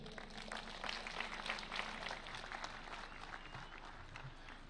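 Crowd at a Mashujaa Day ceremony in Kenya applauding the President of Senegal after his speech, a continuous wash of clapping from many hands, distant and fairly faint, with no talk.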